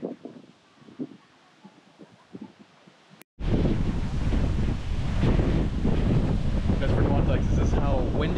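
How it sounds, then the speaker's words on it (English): Strong wind buffets the microphone on an island beach in Palawan, Philippines, a loud continuous roar and rumble after a quieter opening stretch with faint voices and gusts. "Windy it is right now."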